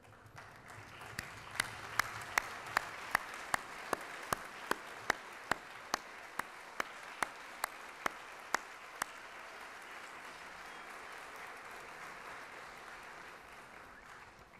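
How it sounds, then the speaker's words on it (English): Applause from graduates standing to clap for their family and friends at a 2015 commencement, a broad, even wash of many hands heard from a distance, with a few sharp nearby claps early on. "turn around, and applaud your family and friends for their unwavering support"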